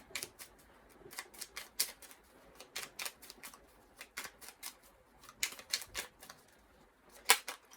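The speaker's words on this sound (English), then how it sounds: "we'll be cutting the deck in the same order" A tarot card deck is cut and handled during a reading, giving a quick irregular series of sharp, close clicking snaps and flicks of cards with brief pauses and no talking.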